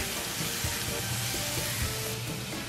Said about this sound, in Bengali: মেথির শাকটা দিয়ে ভালো করে নেড়ে চেড়ে নেব